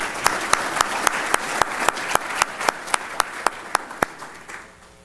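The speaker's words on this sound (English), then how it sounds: "One more round of applause for all seven candidates." An audience at a general membership meeting claps for seven candidates: evenly spaced, sharp claps in a steady rhythm that fade out at the end.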